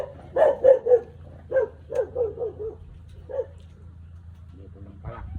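Several dogs bark in alert at an approaching visitor, a quick run of sharp barks at moderate distance followed by a few scattered ones, with a brief human sound near the end.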